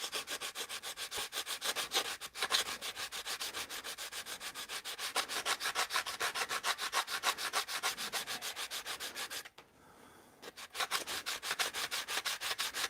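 Rapid rhythmic sanding strokes on wood, close and steady, with one brief pause before the rubbing resumes.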